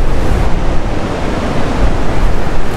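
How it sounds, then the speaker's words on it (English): Big ocean waves surge and crash at Holywell Bay in Cornwall, near sea caves as the tide comes in, a continuous loud roar of surf with wind buffeting the microphone and no voices. "The giant waves."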